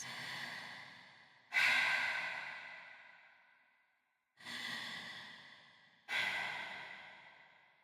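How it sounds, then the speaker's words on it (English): A storyteller takes several slow, deep breaths, each a soft rushing inhale or exhale that fades gradually, with four separate breaths close to the microphone. "So Bunnie took some more deep breaths and closed her eyes."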